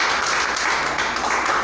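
A church congregation applauds in a steady, dense wash of clapping that carries evenly through the whole stretch, loud and continuous without pauses.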